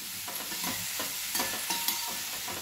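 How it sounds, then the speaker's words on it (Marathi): A salted mixture of millet and sago stirred in a pan for a fasting dish, soft rhythmic scraping strokes over a low sizzle, close by with no talking. "परत एकदा मिक्स करून घ्यायचं"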